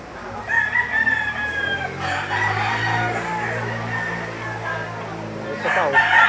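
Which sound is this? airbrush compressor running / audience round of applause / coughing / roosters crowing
roosters crowing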